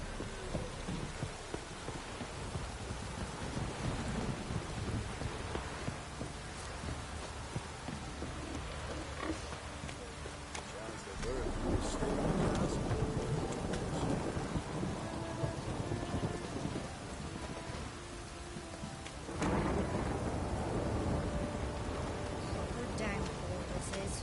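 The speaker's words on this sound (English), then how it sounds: "The storm, damn it." A Witcher 3 thunderstorm: steady rain hisses throughout while low rumbles of thunder swell twice, with a voice speaking faintly over the storm.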